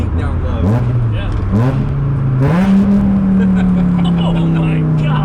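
A car with custom exhaust and headers revs through low RPMs in third gear, a deep rumbling engine note stepping upward in pitch several times and then holding, loud and close, with voices talking over it.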